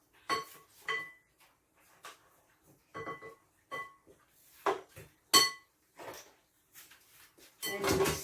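Pancake batter with milk being mixed in a bowl, heard as scattered clinks and scrapes of utensil against the bowl, irregular and close, separated by quiet gaps, with no voices.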